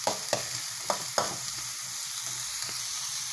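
Onion sizzling as it sautés in cooking oil for stir-fried vegetable noodles, with a steady frying hiss and a few sharp clatters of stirring near the start.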